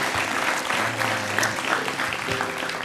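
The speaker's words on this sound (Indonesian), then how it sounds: "Kayaknya kita tepukin tangan dulu deh ya." Studio audience at a television talk show claps steadily, a dense sustained applause close and full throughout, with faint voices mixed in.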